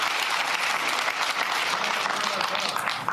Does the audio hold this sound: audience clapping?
yes